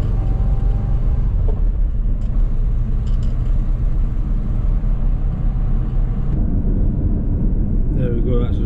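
A car drives along a road approaching a border crossing, giving a steady, loud rumble of engine and road noise that runs unbroken throughout, with a brief change in tone near the end.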